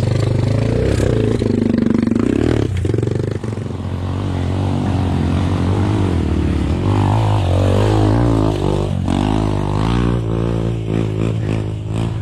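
A bored-up Kawasaki KLX 150 trail motorcycle climbs a rocky off-road track, its engine droning loud and close throughout, with rising and falling revs and rattling clatter toward the end, and no speech over it.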